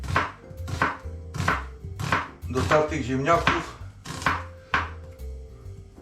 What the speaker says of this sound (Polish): zaczynam od krojenia cebuli